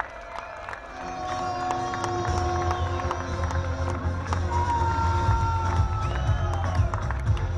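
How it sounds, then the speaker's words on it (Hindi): A large crowd at a political gathering about a railway project claps and cheers, a dense continuous roar of applause and shouting with whistles and voices over it, steady and fairly loud. "इस तरह नहीं खड़े होके ताली बजनी चाहिए।"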